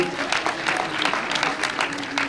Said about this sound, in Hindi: भुने सिंगर के लिए जोरदार तालियां बजाइए